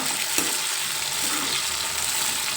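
Dried prawns frying in hot oil with ridge gourd, a dense continuous sizzle with a brief clink near the start, close and steady throughout, no voices.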